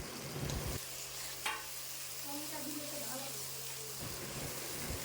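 Onion with chili, ginger and mustard paste fries in oil over a medium flame, giving a steady, close sizzle with a few stirring scrapes, and a low hum underneath.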